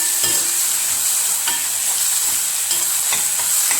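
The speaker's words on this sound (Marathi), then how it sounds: "व्यवस्थित भाजून घ्यायचं।" Spring onion greens chutney roasting in a pan, with a steady close sizzle and repeated scraping stirs of a spoon against the pan, no voices.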